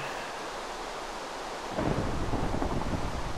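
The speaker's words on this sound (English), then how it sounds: "in this test world, it doesn't just rain, it thunderstorms every time I have to clear that" Steady hiss of rain in a Minecraft world, joined partway through by a deep, rolling thunder rumble that swells and holds to the end.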